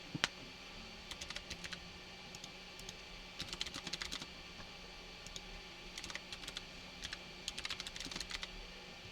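Quiet, irregular clicking of computer keyboard keys in short bursts over a steady background hum, with no voices.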